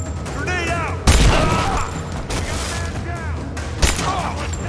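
Gunfire in the video game Rise of the Tomb Raider: loud bursts of shots and booms over a constant noisy battle bed, with shouting voices mixed in.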